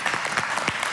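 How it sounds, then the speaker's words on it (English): A studio audience gives a short burst of clapping, a second of close, uneven hand claps with distinct individual slaps. "Give him a huge round of applause."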